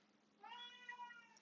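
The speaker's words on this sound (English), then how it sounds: "That's my cat." A house cat lets out a single clear, drawn-out meow in an otherwise quiet room, close and fairly soft.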